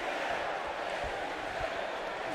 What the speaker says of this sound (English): you can hear this crowd chanting for HBK